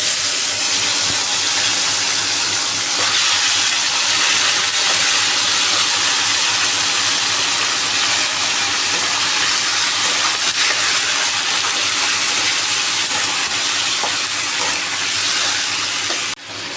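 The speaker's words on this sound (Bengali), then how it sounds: "এরপর আমি গরম তেলটাতে চিকেনটা দিয়ে দেবো। চিকেনটা ভেজে নেবো একটু।" Chicken pieces fry in hot oil left over from frying potatoes, a loud, continuous hissing sizzle that holds steady and close before cutting off abruptly at the end.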